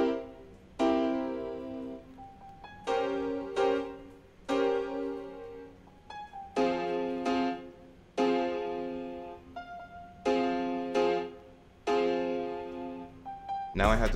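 A Spanish-style melody loop in F harmonic minor, processed with EQ and RC20 vinyl effects, plays as a series of plucked, guitar-like phrases in steady rhythm under a faint warm vinyl hiss, with no voices.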